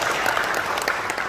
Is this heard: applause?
yes